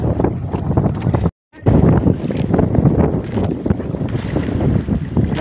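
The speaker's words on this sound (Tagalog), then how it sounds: "Masyadong mahangin" Strong wind at sea during traditional handline fishing from a boat, loud buffeting gusts roaring against the microphone almost continuously, with one brief dropout.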